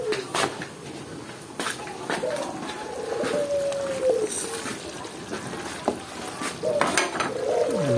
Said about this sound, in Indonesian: Tinggal diaduk-aduk.